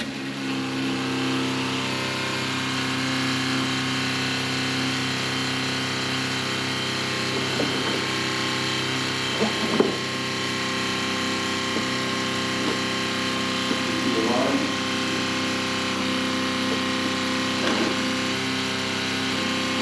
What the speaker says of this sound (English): Turn this pump on and make it at the same time.